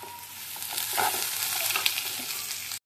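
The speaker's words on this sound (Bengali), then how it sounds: "এবার পেঁয়াজগুলো আরেকটু ফ্রাই হবে।" Onions and green chillies fry in a pan with a loud, steady sizzle that runs from start to end. Stirring scrapes and crackles rise through the middle, and no voices are heard.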